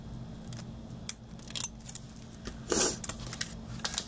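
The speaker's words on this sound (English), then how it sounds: "And then trim it at an angle on both sides." Ribbon ends being snipped at an angle with scissors for a candy-bar wrapper craft, several short close cuts, one longer crisp snip near the middle, over faint background hum.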